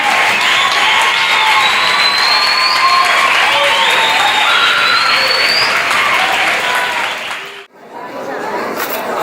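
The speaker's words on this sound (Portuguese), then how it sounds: "Vamos aplaudir os irmãos." Sustained applause from a church congregation for brothers about to be baptized at a Brazilian Baptist anniversary service, loud and dense with some crowd voices, then cutting out briefly before resuming more softly.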